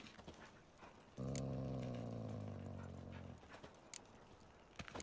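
Dogs growl in The Witcher 3, with a low, steady snarl that rises abruptly, holds for about two seconds and then fades, set against faint jangling and rustling.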